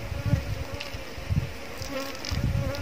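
Swarm of ground-nesting bees buzzing around a nest that has been dug out of the earth, a continuous close drone that swells and fades as insects pass near, with no talking.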